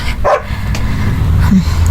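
A dog, leashed to the back of a chair, gives a sharp bark followed by softer whimpering yips, close and loud against a steady outdoor background.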